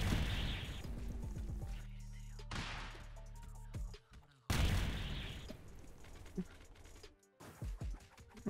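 A gunfire shootout in a ranked video game match brings rapid bursts of shots and booms that come in clusters, break off briefly, then resume, with a voice talking over them.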